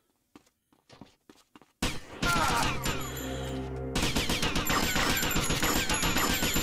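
Gunfire in GTA Vice City: after a few soft footstep-like taps, a loud dense burst of rapid shots erupts and continues steadily for several seconds, with a brief shift midway.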